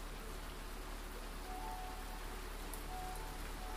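Steady rain falls on a surface, a soft, even patter of drops with a faint constant hiss, heard alone at low volume throughout.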